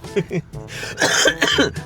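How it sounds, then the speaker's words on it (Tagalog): A few harsh coughs and throat-clearing bursts, close to the microphone, mixed with some voiced sounds. "Sensya na kayo sa aking ubo mga boss ha."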